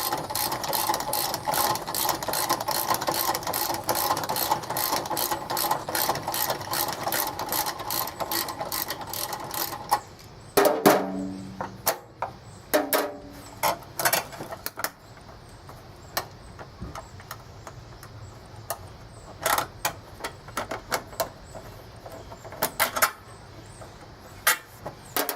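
A wrench works on the bolts of a leaky Cub Cadet gas tank, a fast mechanical ratcheting clatter that runs steadily at first, then turns into sparser clicks and knocks close by.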